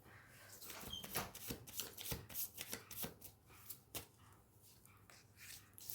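Tarot cards are shuffled and laid down, a close, quiet series of crisp flicks and soft slaps coming in quick irregular bursts, tapering slightly toward the end.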